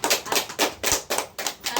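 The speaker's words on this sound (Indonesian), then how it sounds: "beri tepuk tangan untuk" A classroom of fifth-grade students claps in steady rhythmic bursts, loud and close, a run of quick clap groups with no talk over it.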